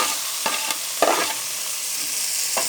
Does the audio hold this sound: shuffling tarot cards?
no